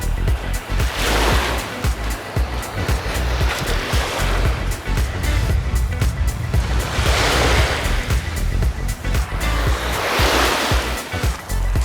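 Waves rolling onto the Lake Havasu shoreline, a continuous loud wash with swells surging every few seconds, mixed with some wind rumble.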